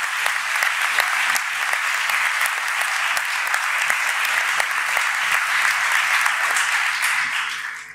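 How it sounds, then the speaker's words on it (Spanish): An audience in a hall claps warmly and continuously for around eight seconds at a Spanish commemorative gathering, a full, even wash of applause that tails off at the close. "Así que yo quisiera pedir un aplauso para todos vosotros, todos los que nos han ayudado."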